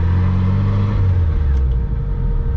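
BMW E30 swapped with a Nissan SR20DET turbo engine pulling away, a close, loud, steady low engine drone that shifts pitch slightly as it moves off.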